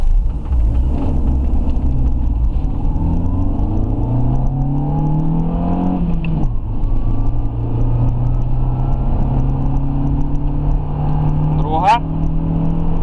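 A Renault Scenic RX4 running on LPG pulls away and accelerates through the gears, its engine droning loud and steady with rising pitch sweeps and a clear shift midway. There is no talking over the engine.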